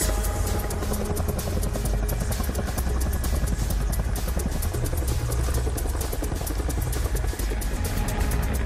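A military helicopter hovers during Philippine Scout Ranger rappelling training, its rotor and turbine making a loud, steady, dense roar that fills the whole clip with no speech.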